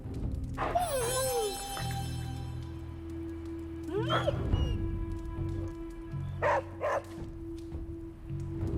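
Charlie, a dog in Marvel's Midnight Suns, gives a few short barks and yips spaced through the stretch, close and moderately loud over a steady low game hum, with whiny rising calls early on.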